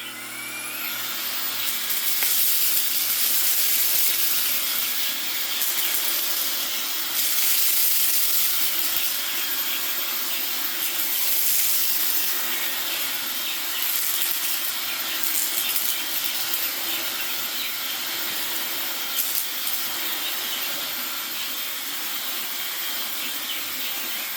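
Eleckeys K30 cordless vacuum cleaner running over a rug strewn with sawdust, a loud continuous high-pitched whine and airflow hiss held steady close up throughout, with brief rattles of debris being sucked in.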